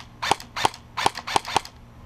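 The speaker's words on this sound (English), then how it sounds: "today I'm going to be using my AM013 by Ares. It's in the Amoeba line, and it's shooting at around 370 to 380 FPS." Ares AM013 Amoeba airsoft gun powered by a 7.5 LiPo, shooting around 370 to 380 FPS: five sharp, evenly spaced single shots with a mechanical snap, close and loud, with no talking.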